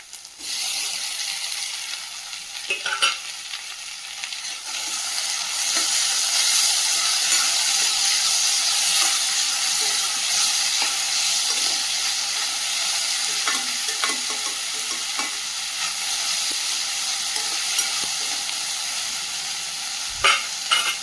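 Onions sauté for drumstick thokku, a steady loud sizzle and hiss filling the pan throughout, with occasional scrapes and clicks of stirring and no talk.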